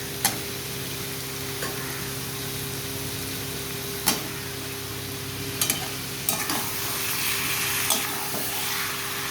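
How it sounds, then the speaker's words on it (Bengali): Chicken and potatoes sizzle steadily as they are mixed and fried in a pan, with occasional sharp scraping clicks from the stirring utensil over a continuous hiss. "আমি ভালো করে মিশিয়ে নিচ্ছি এই যে মাংসটা"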